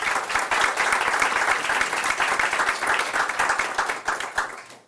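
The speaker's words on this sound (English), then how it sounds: "You can give her a round of applause." Sustained applause from an audience at a school district Board of Education meeting, dense steady clapping throughout, tapering off at the very end.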